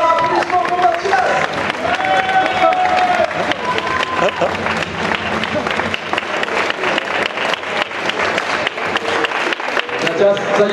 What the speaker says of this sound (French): Applaudissements pour Mathias